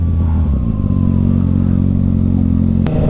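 Kawasaki Ninja ZX6R KRT Edition sport bike (2021) ridden at night, its engine droning steadily and loud up close with a constant low rumble, plus a brief sharp clatter near the end.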